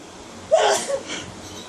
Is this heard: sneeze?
yes